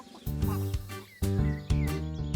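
Hens clucking in a children's farm cartoon, short repeated clucks mixed in with a loud, rhythmic music track.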